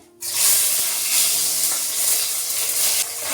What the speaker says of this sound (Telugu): ఒక్కసారి ఫ్రై చేసుకుని తీసేసుకుని లాస్ట్లో వేసుకుంటాము కొన్ని పన్నీర్ పీసెస్